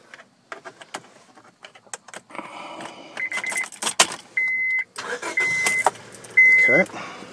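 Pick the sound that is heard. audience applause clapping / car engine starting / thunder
car engine starting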